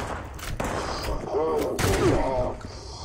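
Sharp bursts of gunfire in the video game Fallout 76 crack out at intervals while voices talk and shout in German over the action.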